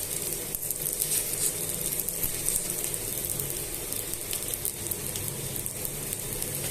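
Kanda attu, a yam pancake, frying slowly in oil on a pan, giving a steady close sizzle and crackle throughout with no talking.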